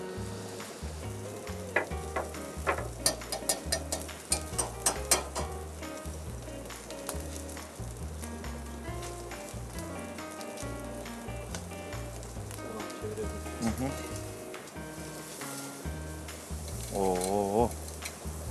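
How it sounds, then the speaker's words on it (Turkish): Meat searing in a hot pan, a continuous crackling sizzle over rhythmic background music, with a few scraping and clinking kitchen sounds. "Şu anda bir mühürlensin iyice."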